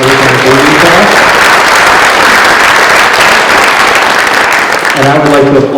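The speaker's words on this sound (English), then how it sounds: "more enthusiastic round of applause for our performers tonight" An audience claps loudly and continuously at a middle school concert, the dense applause filling the room with no pauses.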